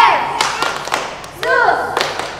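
Rhythmic hand claps from an online children's worship service at GKII Palembang, part of a clapping game for Jesus. A few sharp claps are spaced out and mixed with a lively leader's voice chanting along.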